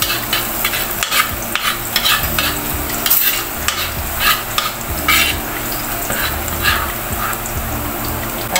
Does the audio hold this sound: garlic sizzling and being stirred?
yes